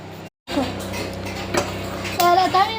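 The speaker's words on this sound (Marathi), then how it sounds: "आता मी पहिले घेतलेली आहे एक कढई" A kadhai being set down and handled, producing a few metallic clanks and scrapes, close by, after a brief cut, with a voice speaking over the handling.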